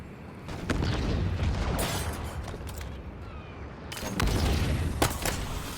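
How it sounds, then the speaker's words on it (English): A Wraith tank firing in Halo Infinite: deep booming blasts and rumbling impacts roll through a battle scene, with a couple of louder bursts close by and no talking. "Oh, the Wraith fires for him."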